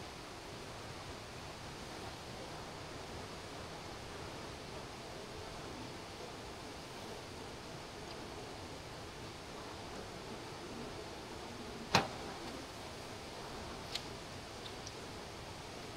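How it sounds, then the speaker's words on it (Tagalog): At a solo campsite by a river at Coto Mines, the water runs as a soft, steady hiss, faint and unchanging, with one sharp tick and a smaller click later on. "Wala ibang maririnig kundi tunog ng ilog."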